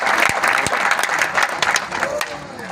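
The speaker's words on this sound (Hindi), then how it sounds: "एक बार जोर से तालियां होनी चाहिए भाई" Audience applause at a National Safety Week quiz event in Jamnagar, a dense burst of clapping from a crowd, loud and close, sustained throughout with a few sharper individual claps standing out.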